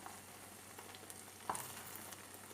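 An herb omelette fries slowly in a pan with a soft, steady sizzle, quiet and even, with one small tap near the middle.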